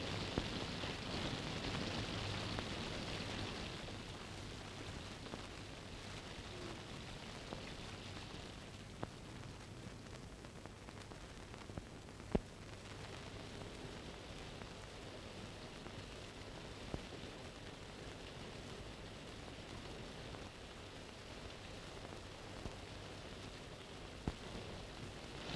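Heavy rain falls steadily as a dense, constant hiss with a few sharp drip or knock sounds, set in a 1954 Hindi film scene.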